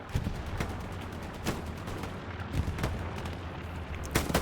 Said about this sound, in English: What an artillery hit.